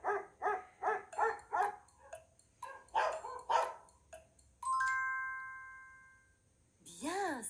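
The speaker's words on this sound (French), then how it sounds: "c'est le chien qui aboie" A dog barks in a rapid series of sharp yaps, then a pause, a few more barks, a sustained tonal chime, and a final rising yelp.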